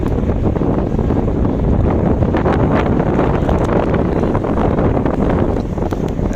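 Strong storm wind roars across a boat, buffeting the microphone in a loud, continuous rush with no letup and no speech.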